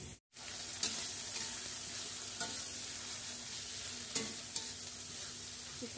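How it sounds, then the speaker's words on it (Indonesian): Green chili sambal being stir-fried in a pan with fried shallots, a steady close sizzle with a few light clinks and scrapes of the spatula throughout. "Kita tumis."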